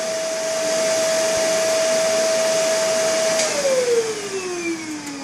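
A household vacuum cleaner whines loudly and steadily on suction alone, its pitch holding then sliding lower as the motor load changes near the end.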